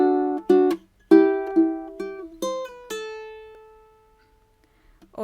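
A ukulele plays a fingerstyle melody of a song: clear plucked single notes and small chord strikes in a gentle rhythm, ending on a long ringing note that fades to near silence before a final pluck.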